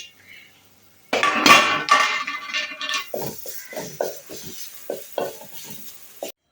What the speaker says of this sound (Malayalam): ചുരണ്ടി വെച്ചൊക്കെ തേങ്ങ ആണ് നമ്മൾ നമ്മളത് വറുത്തെടുക്കാൻ പോവാണ്